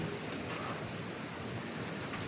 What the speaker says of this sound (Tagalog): Bumabanda po yung hangin.